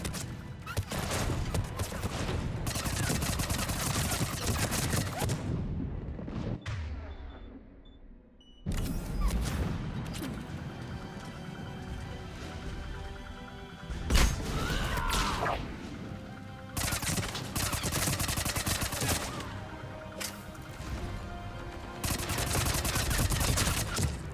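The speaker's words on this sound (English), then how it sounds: "there's also 4 guys on the other side shooting at me" Mass Effect 3 combat: close, loud bursts of automatic gunfire and impacts come in repeated volleys, broken by brief lulls and one near-silent stretch before the shooting resumes.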